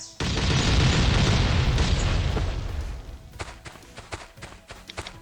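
A loud, sustained explosive boom in the video game Last Island of Survival rumbles for about three seconds, then fades into scattered smaller pops and crackles.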